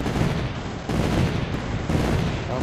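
Artillery firing in the tower defense game M.A.C.E., a dense, loud barrage of booming shots that roll on without pause, with a few sharper bursts landing roughly every second.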